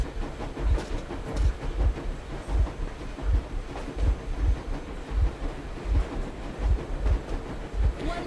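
A train rolls along steadily in the video game Metro Exodus, with loud, regular clickety-clack wheel beats repeating about every half second over a constant low rumble.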